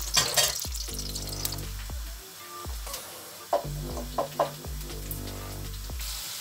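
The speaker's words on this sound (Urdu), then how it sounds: "ابھی پیاز کا انتظار کریں گے تاکہ براؤن ہو جائے تھوڑا" Onions frying in a pan as they start to brown for rajma chawal, a steady sizzle broken by a few clattering stirs and knocks of a utensil against the pan, close by, with no talk.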